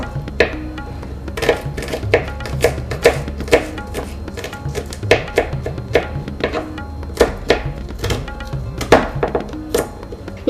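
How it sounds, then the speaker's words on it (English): A knife chops garlic on a cutting board while Fiji-style Indian bhindi (okra) fry is prepared, giving a steady run of sharp, close knocks at a brisk, uneven rhythm with no talking. "With garlic, you could crush it or you can chop it like I do."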